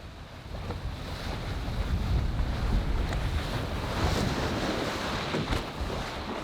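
A sailboat in the South China Sea gathers speed through a squall, a steady, loud roar of wind, rushing water and waves against the hull, with gusts swelling and buffeting the microphone.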